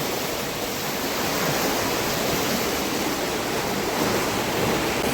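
Kundmala waterfall pouring over rocks, a steady, dense roar of rushing water that fills the whole clip at an even loudness, with no voices.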